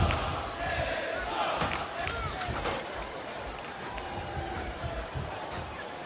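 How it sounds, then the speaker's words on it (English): A wrestling arena crowd in WWE SmackDown vs Raw 2008 roars and cheers steadily throughout a match, a dense continuous wash of noise with scattered thuds. "Jeff Hardy always enjoys enthusiastic fan support"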